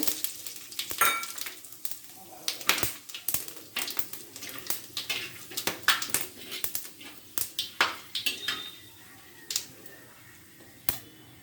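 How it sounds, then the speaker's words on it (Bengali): Two dry red chillies with cardamom, cinnamon, cloves and cumin seeds crackle in hot oil, sharp irregular pops and snaps over a low sizzle, close and busy throughout. "মশলাটা ভাজা হয়ে গেছে"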